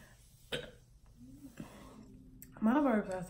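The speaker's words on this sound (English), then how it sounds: "My burps are so little." Several small, short burps from a woman, soft and close, spaced out irregularly with brief quiet gaps between them.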